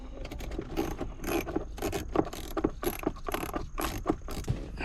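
Ratchet wrench loosening 10 mm bolts inside the cabin of a Lexus IS300, a close, steady run of rapid clicking bursts with short pauses between strokes.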